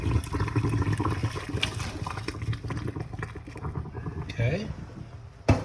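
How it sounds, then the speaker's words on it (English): Pasta and its cooking water poured from a pot into a colander, a broad rushing splash of liquid running steadily for several seconds, close by, with a voice talking over it. "pour it into the colander."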